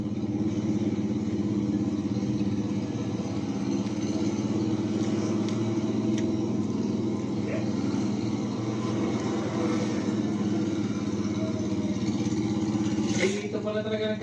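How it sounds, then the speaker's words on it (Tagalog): Traffic on a road in Lupi, Camarines: a continuous steady engine drone from passing cars and motorcycles, close and loud, with a brief higher rattle near the end. "Dito pala talaga nagkakaroon ng traffic."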